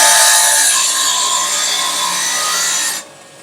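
A trim saw grinds steadily through agate rock, a loud continuous abrasive whine with a rough scraping texture that holds for about three seconds, then drops away abruptly to a quieter hum.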